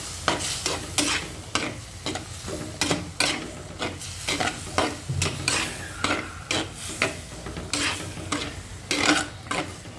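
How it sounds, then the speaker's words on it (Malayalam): Kerala aviyal, mixed vegetables being stirred together with a crushed coconut and cumin mixture in a pan, giving steady repeated scraping and clinking strokes over a soft sizzle, close and without talk. "നന്നായി ഒന്ന് ഇളക്കി ചേർക്കുക."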